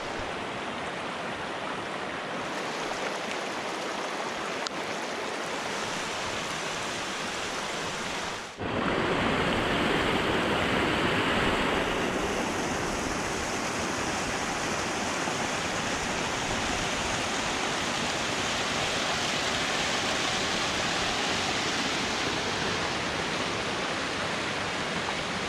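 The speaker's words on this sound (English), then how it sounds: "here we have cooler river water coming in, and somehow it mixes just perfect right here" Cooler river water pours into a hot spring in the Yellowstone wilderness, a steady broadband rush that steps up abruptly partway through and stays loud and close to the end, with no voices.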